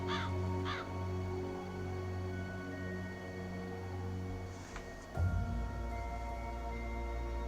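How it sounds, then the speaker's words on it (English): Crow cawing in the video game Dreamfall Chapters: two quick harsh caws near the start, then a sustained tonal ambient drone and a low thump, without talking. "Crow, cuervo."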